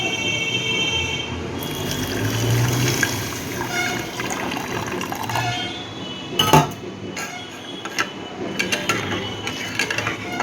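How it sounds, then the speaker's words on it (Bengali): Mung dal lentils are rinsed in water by hand, with close sloshing, swirling and a few sharp clinks of the vessel, uneven and louder in bursts toward the end, with no voices. "জল দিয়ে এবার ডালটাকে ধুয়ে নিচ্ছি, তারপরে সিদ্ধ বসিয়ে দেবো।"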